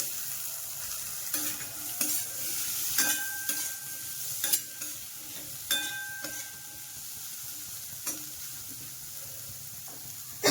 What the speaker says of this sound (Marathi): आता हे निथळलेले मटार टाकूया याच्यामध्ये